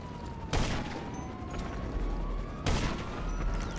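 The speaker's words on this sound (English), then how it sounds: "I sniped this man a few more times" Sniper rifle shots in the GTA video game, two loud, sharp cracks about two seconds apart, each with a trailing echo over a steady low background hum.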